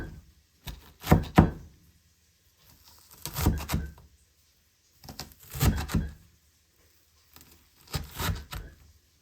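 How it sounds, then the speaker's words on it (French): Knife chopping white cabbage on a board in four quick bursts of several rapid, crisp chops each, separated by short pauses, close and fairly quiet with no talk. "je termine par hacher au couteau environ 4-5 fois afin d'obtenir quand même des petits morceaux"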